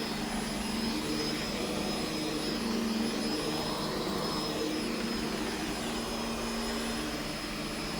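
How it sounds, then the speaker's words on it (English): A vacuum cleaner runs steadily on a carpet, a loud continuous whine with a high tonal hum holding level and unbroken throughout, with no voices. "So I'll get this thing vacuumed"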